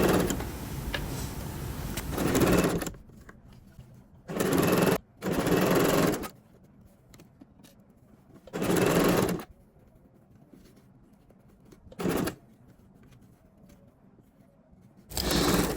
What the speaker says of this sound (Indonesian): Ini kita jahit renggang saja, karena nanti akan kita lepas jahitannya.